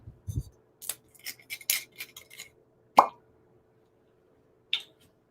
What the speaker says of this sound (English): I'm gonna grab another glass.